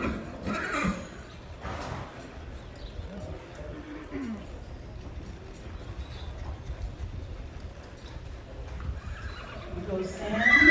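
Young horses whinny during a colt starting competition at River Valley Horsecamp: a clear neigh near the start and another shrill one at the close, with scattered hoof clops and people talking in between.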